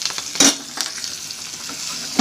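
Liver sizzles in a pan with curry leaves and garlic while being stirred, a loud continuous fry broken by a few sharp spatula scrapes and clinks against the pan, close with no voices.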